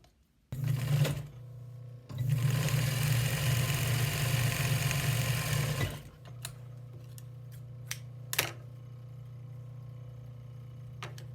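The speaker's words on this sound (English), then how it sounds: "this is just basically to sew a straight stitch" Sewing machine stitching a straight seam for upholstery work, in two loud steady runs of motor hum and needle chatter, the second longer, followed by a quieter lingering hum with small clicks.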